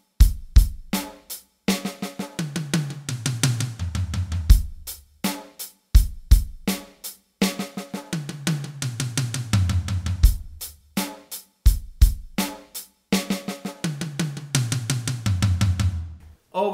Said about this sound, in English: I'll play the cauliflower fill with the pattern as well.